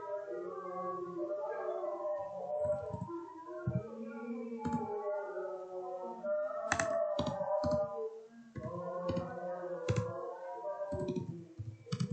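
Computer keyboard keys clicking in quick bursts while text is typed into a spreadsheet cell. A steady tonal hum runs underneath the taps throughout.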